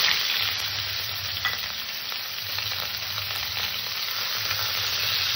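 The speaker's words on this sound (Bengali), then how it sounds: "তেলটা গরম হয়ে গেছে, মাছ দিয়ে দিলাম।" Lata fish (snakehead) sizzling in hot oil in a kadai, a steady close crackling hiss with faint scattered pops and no talking.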